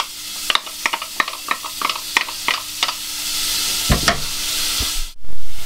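Onions hit a pan of browned beef mince and fry with a loud hiss, while a spatula knocks and scrapes in a quick run of sharp clacks before the sizzle settles and cuts off.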